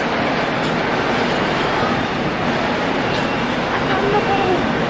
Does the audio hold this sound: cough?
no